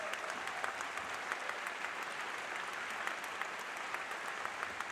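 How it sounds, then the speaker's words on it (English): Sustained applause from a seated audience after a performance, many hands clapping in a dense, steady roar at moderate volume with no voices on top. "One more round of applause,"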